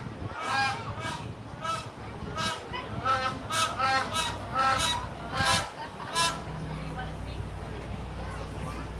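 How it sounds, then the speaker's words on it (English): Grey crowned crane calling at a zoo park, a series of loud, repeated honking calls in a steady rhythm, with people talking and crowd babble nearby. "Our crested crane. Oh, he's talking to us."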